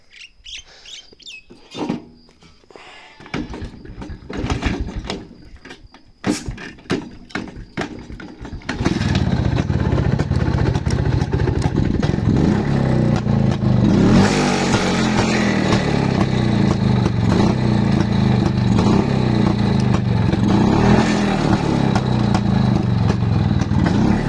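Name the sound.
motorcycle engine running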